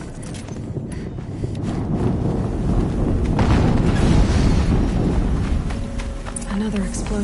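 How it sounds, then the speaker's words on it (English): Rumbling explosion in the video game Horizon Zero Dawn, a loud sustained low roar swelling through the middle of the clip, with wind noise and a voice speaking over it. "Another explosion."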